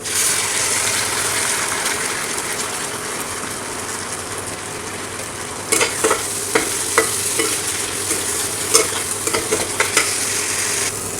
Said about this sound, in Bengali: পেঁয়াজটা একেবারে লাল লাল করে ভাজা হয়ে গেছে এবার এতে আমরা দিয়ে দেবো বানিয়ে রাখা পেস্ট